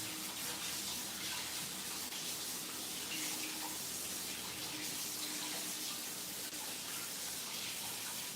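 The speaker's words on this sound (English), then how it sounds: "Just washing my hands here" Hands are rinsed under a running kitchen tap, a steady, close hiss of water flowing continuously with light splashing and no break.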